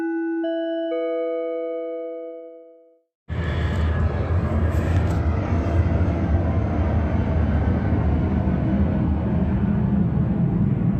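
A train passes close by in the early morning: a sustained tonal horn-like chord fades away, then a loud, steady rumbling roar and rattle fills the remaining several seconds without letup.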